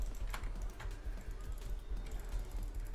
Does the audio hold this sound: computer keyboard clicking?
yes